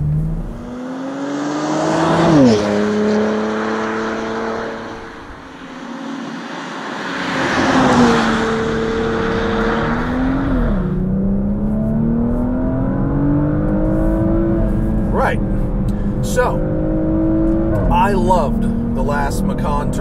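A powerful 2020 Porsche Macan Turbo SUV engine revs and accelerates through several gear changes in sport mode with the sport exhaust open, pitch climbing and dropping, with loud exhaust roar and some crackles near the end.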